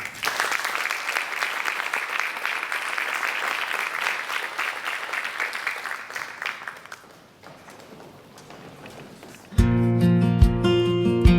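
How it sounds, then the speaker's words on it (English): Dense applause from a banquet audience for FFA students, loud and steady for several seconds before thinning out, then cut off as country music with singing starts. "Let's give these kids a round of applause."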